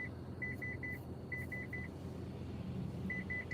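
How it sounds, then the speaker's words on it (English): Rapid electronic beeps in short bursts of three or four from a car's proximity warning, repeating over a low car engine hum inside the vehicle. "That's that beeping y'all are hearing."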